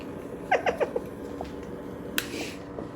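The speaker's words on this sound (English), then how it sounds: "All the cats are curious." A curious cat gives a few short, close meows in quick succession in a kitchen while a crème brûlée torch is used on lemon posset. A soft hiss follows, with no talking.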